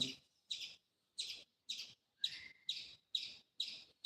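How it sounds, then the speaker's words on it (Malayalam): A squirrel chirps outdoors in a repeated series of sharp, high calls, about two per second. The calls are moderately loud and come alone, with no talk. "അത് കിളിയല്ല അത് അണ്ണാനാ"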